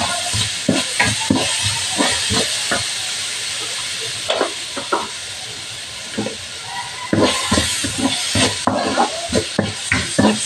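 Shrimp and bitter gourd being stirred in a hot frying pan, with a steady sizzle under repeated scraping, clattering strokes of a utensil against the pan, close and fairly loud with no talk.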